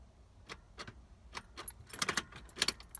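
Car keys jangle and clink as they are pulled from and pushed back into the ignition of a Mitsubishi 3000GT that will not start, a few quiet, close metallic rattles bunching toward the end.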